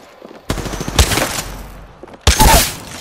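Apex Legends gunfire arrives in two loud, close bursts of rapid automatic shots separated by a brief lull.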